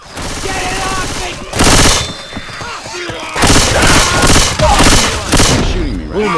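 Loud sustained automatic weapon fire in the zombie shooter Left 4 Dead 2, long continuous bursts broken by short gaps, with occasional thuds mixed in.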